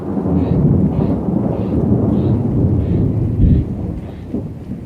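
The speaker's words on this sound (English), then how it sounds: "I have never seen a storm with such frequent lightning, and it's still going." Thunderstorm with rolling thunder rumbling almost continuously over steady rain, loud and close, with a few stronger claps standing out and no talking.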